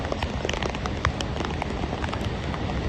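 Steady, dense monsoon rain falls at the foot of Harishchandragad fort, a continuous close patter of drops on surfaces with no pauses and no voices.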